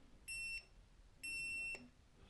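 Two short, high electronic beeps a second apart, clear against a quiet background.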